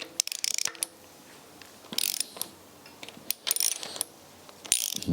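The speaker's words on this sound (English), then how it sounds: "So we're about ready to start torquing everything down now" Torque wrench ratcheting while engine head bolts are tightened during a rebuild of an old rusty engine, heard as quiet bursts of quick clicks repeating every second or so, close by.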